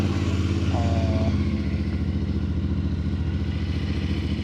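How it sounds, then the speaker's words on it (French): A 450 motorcycle engine running at a steady idle right after starting, a close, throbbing mechanical chug that stays even throughout with no talking. "Vous êtes prêts à savoir si elle démarre?"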